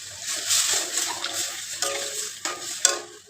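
Chickpeas added to cooked spice masala and stirred in a pan, a moderate sizzle broken by repeated scraping strokes of a spoon against the pan.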